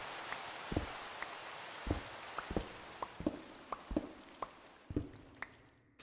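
Rain falling in a Minecraft sky block world gives a steady hiss, with irregular soft thuds of drops striking surfaces scattered through it, fading slightly toward the end.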